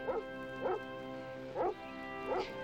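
An old hound bays and barks while chasing a bobcat outdoors, four drawn-out barks at a steady pace, heard from a moderate distance over a low background.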